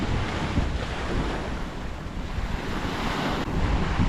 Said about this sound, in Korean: 근데 파도가 센데 갈 수 있을까?